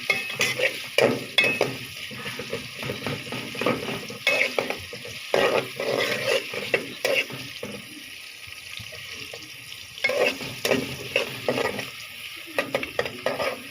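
Onions softening in a pan for chicken biryani, a low sizzle beneath bursts of brisk stirring and scraping with a spoon, coming in uneven clusters with brief quieter gaps.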